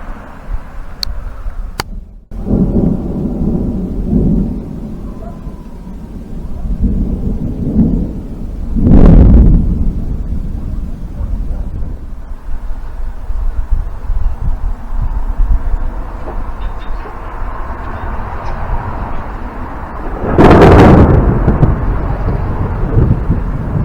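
Deep rumbling thunder rolls through the clip, with two louder cracks standing out over a constant windy background of heavy downpour.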